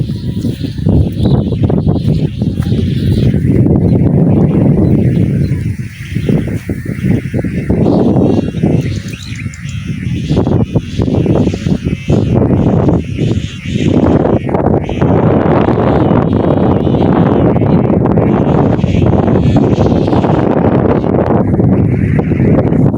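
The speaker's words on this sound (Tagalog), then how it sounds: "Ang lakas ng hangin, tinatangoy ako." Strong sea wind buffets a microphone with a loud, continuous roaring rumble that swells and dips in gusts for the whole stretch.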